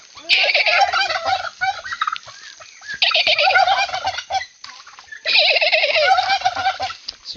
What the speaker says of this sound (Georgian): აი, ინდაურები მართლა.